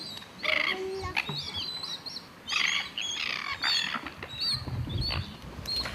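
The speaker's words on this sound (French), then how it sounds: "À l'extérieur, les oiseaux savourent également leur repas du matin." Morning birdsong on the Mataiva atoll: several birds chirp and tweet in quick, scattered bursts, some calls close and bright, alongside a few hen-like clucks over quiet background ambience.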